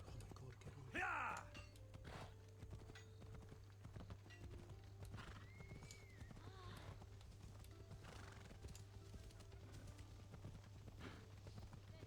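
Horse hooves clip-clopping at a steady pace in the video game Assassin's Creed Odyssey, with a sharp whinny near the start, over a constant low background hum.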